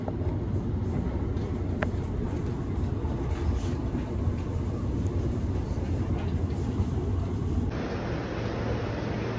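A train runs steadily on rails, giving a loud, continuous low rumble with a faint rhythmic clatter, heard from inside a carriage on a trip into London Charing Cross.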